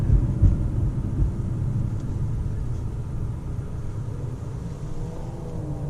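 A BMW i8 supercar drives over bumps, a loud, steady low rumble of road and engine noise filling the cabin throughout, with no talk.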